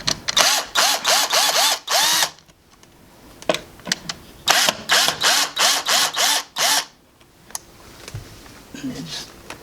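Screws being driven out of an old, worn door entry lock with a power driver, heard as two close bursts of rapid whirring pulses separated by quieter handling clicks and scrapes.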